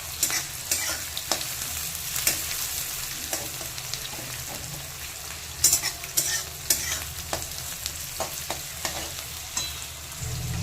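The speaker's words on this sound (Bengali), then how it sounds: "পেঁয়াজটাকে একটু হালকা ভেজে নিতে হবে।" Sliced onion, green chillies and crushed garlic cloves sizzle in a pan of hot oil, a steady close frying hiss broken by repeated scrapes and clicks of stirring.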